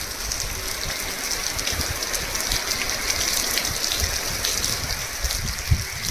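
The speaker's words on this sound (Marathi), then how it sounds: "मस्त पाऊस तुम्हाला दिसत असेल थोडा थोडा म्हणजे पडताना कमी झाला" Steady rain falls in a Konkan village, an even, dense patter on surfaces around the listener with a faint rushing of water beneath it and no voices.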